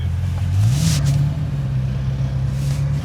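A car engine revs up and accelerates, its low steady drone climbing in pitch and then holding, loud and close with no talk over it.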